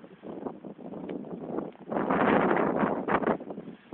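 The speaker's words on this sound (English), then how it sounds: "Wouldn't be so scary if it wasn't for the wind." Strong wind buffets the microphone on a volcano summit in Spain, a rushing, gusty roar that swells sharply halfway through and stays loud, with no voices.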